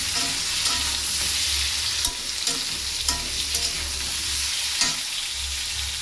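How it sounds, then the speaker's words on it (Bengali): Pieces of potato, eggplant and other vegetables fry in hot oil with a dense, continuous sizzle. A spatula stirs them, adding periodic scraping knocks against the pan, close up with no voices. "ওটা আমি ভালো করে ভেজে নিচ্ছি।"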